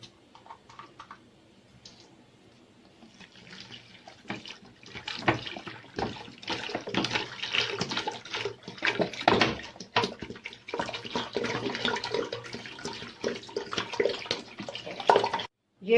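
Water poured from a 1.5 litre bottle into a cooking pot of soaking lentils while shami kabab is being made, a steady splashing gush that runs for several seconds at close range, with a voice talking over it.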